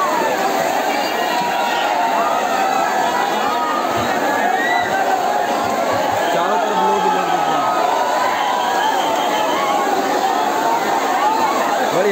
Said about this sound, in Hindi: इतना सारा क्राउड पहली बार मैंने देखा यहाँ पे।